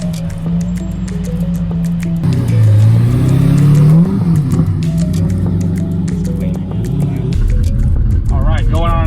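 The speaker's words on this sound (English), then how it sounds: "going on an exotic car cruise with a bunch of folks. Nice Lambos, nice Mclaren 720S" Exotic cars on a group cruise, Lamborghinis and a McLaren 720S, revving their engines, a loud rising and falling roar up close with engine drone throughout, while people talk over the top.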